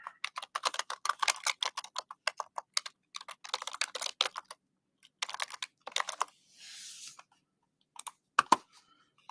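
Typing on a computer keyboard, with rapid bursts of clicking keystrokes broken by short pauses and a final few sharp taps, close and clear with no voices.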